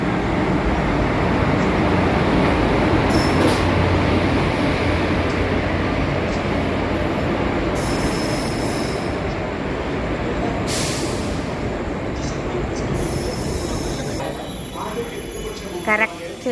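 A train pulls into a railway station on a route toward Coimbatore, a loud, steady rumble filling the whole stretch. Brief hissing bursts that suggest air brakes rise above it, and the noise eases slightly near the end.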